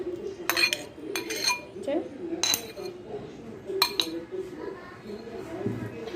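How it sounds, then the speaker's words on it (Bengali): Mango pieces are dropped into a blender jar for a mango milkshake, making several sharp, separate clinks and knocks against the jar, with a voice talking quietly underneath. "সবগুলো আমি একসাথে দিয়ে দিব ব্লেন্ডারের জারে।"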